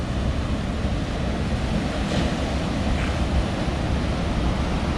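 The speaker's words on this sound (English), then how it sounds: "Got a seawall here with the waves coming crashing in" Rough sea waves crash against a harbor seawall at Portixol in October, a loud continuous roar of surf with gusting wind buffeting the microphone.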